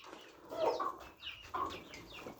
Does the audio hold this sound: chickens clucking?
yes